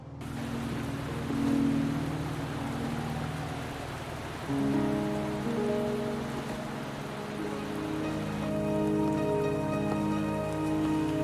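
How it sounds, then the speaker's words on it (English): Steady rain pours down on surfaces in the Wuthering Waves video game, a dense continuous patter with soft tonal background music layered beneath, no voices present. "Are you trapped here by the rain?"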